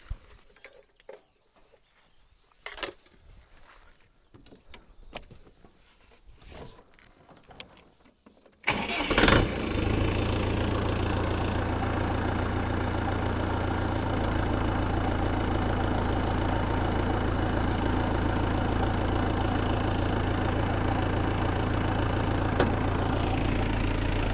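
A tractor engine driving an irrigation water pump for a raspberry field starts up after a quiet stretch of faint clicks and knocks. It then settles into a loud, steady running drone close by.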